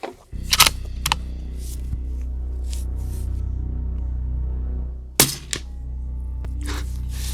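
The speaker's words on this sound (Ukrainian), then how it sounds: "Я більше чую, як влучає куля в паперову мішень, ніж взагалі звук пострілу." Two sharp, muffled cracks about five seconds apart from a Mauser M18 rifle with an A-Tec suppressor and subsonic ammunition, each a short crisp snap of bullet hitting a paper target, over a steady low engine-like hum with faint clicks.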